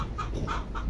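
A small flock of about thirty laying hens kept for eggs clucks close by, with several short, rhythmic clucks over a farmyard murmur and no talking.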